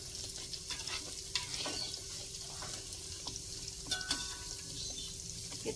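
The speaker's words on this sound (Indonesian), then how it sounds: "Kita goreng hingga matang" Tempeh frying in hot oil, a steady close sizzle with small crackles and pops running throughout, no voices.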